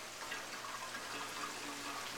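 Water pours steadily into a pump intake, a continuous close rushing and trickling wash with no break and no voices.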